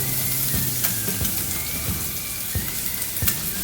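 Ground meat and chopped green peppers sauté in a pan for tarhana soup, giving a steady, close sizzle and crackle with occasional soft stirring taps and no talking.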